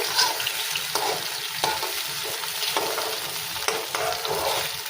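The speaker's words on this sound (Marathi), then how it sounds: "हे छान असं आपण भाजून घ्यायचं आहे." Vegetables for brinjal bharit fry in oil in a pan, giving a continuous close sizzle broken by light scraping and stirring clicks, with no talking.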